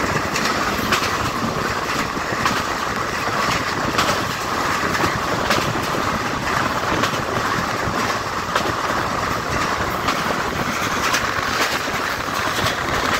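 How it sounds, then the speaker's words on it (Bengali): Benapole Express, a passenger train, rolls along in a steady, dense roar of wheels and carriage rumble with faint clickety-clack on the rails, continuous and close throughout. "আর এটা হচ্ছে আমাদের সম্পূর্ণ বেনাপোল এক্সপ্রেস ট্রেন।"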